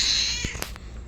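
A cat at a cat hotel lets out a loud, close meow that fades, followed by a few soft clicks and rustles in a quiet room.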